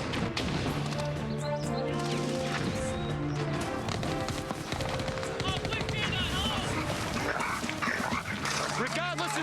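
Several dogs bark and yip amid a chaotic chase after fleeing suspects, heard under loud talk and background music with scuffling and crashing noises.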